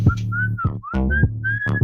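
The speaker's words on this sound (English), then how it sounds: "I used to be one of the best whistlers you ever knew." A person whistles short, bright melodic notes that slide up and down in quick phrases. The whistling is close and loud, with no other sound.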